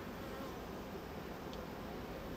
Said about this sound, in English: The bees are not happy at all right now.